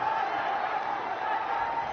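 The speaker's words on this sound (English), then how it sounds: "That's made the crowd wake up." Cricket crowd at a Pakistan versus Bangladesh match cheering and murmuring, a steady broad roar of many voices in a stadium, held at an even level throughout without a sharp peak.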